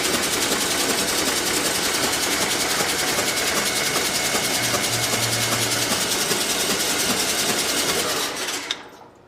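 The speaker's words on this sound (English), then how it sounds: "I'm just going to crank it. I'm just going to let fuel come squirting out of there for a little bit." A John Deere 401C engine is cranked continuously on the starter with the injector lines off, giving a loud, steady, fast mechanical chugging that runs for about eight seconds before it stops abruptly.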